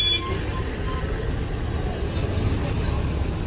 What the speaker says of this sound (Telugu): లారీ వస్తుంది.